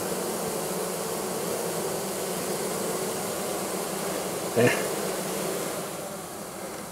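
Steady, close buzzing of many honeybees being hived from a package box, continuing throughout, with one brief word spoken partway through.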